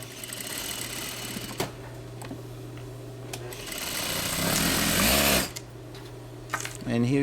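A Juki DDL-8500 straight stitch industrial sewing machine with a high-speed motor runs with a steady mechanical whir and hum, swelling into a louder burst of fast stitching near the end, close and clear.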